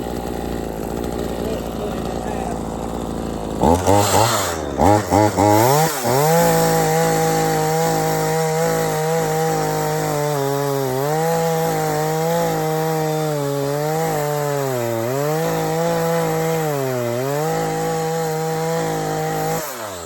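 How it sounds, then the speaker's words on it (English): A chainsaw bites into wood on a landscaping job, revving up in a few short bursts, then holding a loud, steady cutting drone that dips and rises as the bar loads and frees through the cut. "When you're using a chainsaw,"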